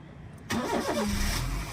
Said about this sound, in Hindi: अब जब क्लच दबा के एक बार और घुमाओगे तो आपका इंजन स्टार्ट हो जाएगा